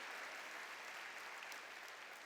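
A church congregation applauds during a Sunday sermon, giving a faint, distant wash of steady clapping that lasts throughout.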